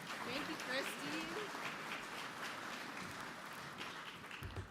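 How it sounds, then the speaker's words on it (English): An audience at the 2023 SUMA convention in Saskatoon breaks into steady applause, a dense wash of clapping that holds across the whole stretch while a voice speaks over it at the start. "One more round of applause."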